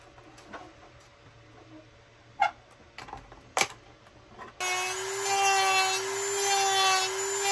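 A Dremel rotary tool grinds excess plastic off a Stormtrooper armor piece, a steady high whine holding for about three seconds after a few scattered taps and handling knocks.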